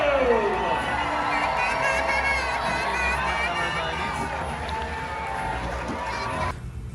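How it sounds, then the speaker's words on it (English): A large crowd cheers and shouts for the knights at a tournament show, a dense, steady roar of voices with children's shrieks rising above it, lasting throughout before dropping slightly at the end. "raise the final cheer for the Knights of the Realm"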